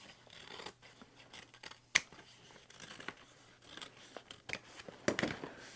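Scissors trim sewn fabric seams on a handmade travel bag, giving quiet, close snipping and shearing sounds with one sharper cut and a few louder snips near the end.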